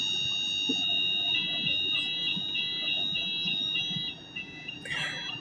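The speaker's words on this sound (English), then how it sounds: "there's a fire alarm in the place that I'm working" A fire alarm sounds inside a workplace building, a steady high-pitched electronic tone ringing continuously from a moderate distance, with a brief louder clatter near the end.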